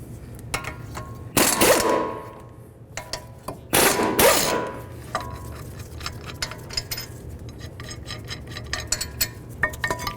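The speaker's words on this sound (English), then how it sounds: "Now let's remove our caliper bracket bolts." Metal tool clatter and ratcheting while the caliper bracket bolts come off the front brakes of a 2006-18 Jeep Wrangler, with two loud bursts of clanking near the start and lighter ticks and clicks continuing close by.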